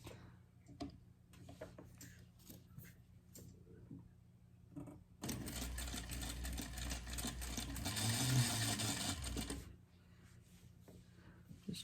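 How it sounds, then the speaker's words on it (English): A sewing machine stitches a frog plush seam in one continuous run of about four seconds, a close, steady mechanical whirr framed by quiet handling clicks and rustles before and after. "Now I'm going to sew that section from point 1 to point 2."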